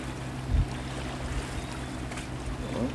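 A fishing boat from Khánh Hòa speeds toward Bình Ty port, giving off a steady low engine drone with water rushing and washing against the hull, fairly loud and continuous with no voices.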